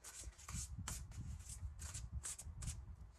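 Oracle cards shuffled by hand in quick, close, soft riffling bursts, repeated rhythmically with light rubbing between them, quiet with no talking.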